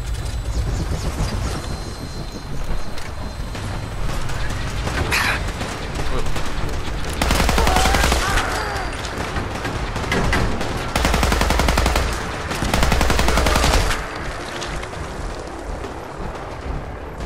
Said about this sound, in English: I'm really a fan of the explosive assault rifle.